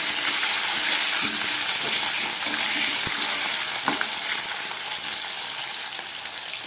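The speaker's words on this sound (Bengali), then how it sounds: "এবার দিয়ে দিচ্ছি কয়েক পিস আলু।" Potato pieces frying in oil with black cumin and green chillies, a loud, dense crackling sizzle close by with occasional stirring knocks, gradually settling over several seconds.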